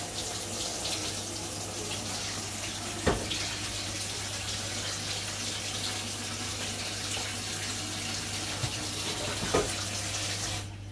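Water from a pot of cooked potatoes pours steadily into a sink for several seconds, a continuous splashing gush with a couple of brief clunks of the pan partway through.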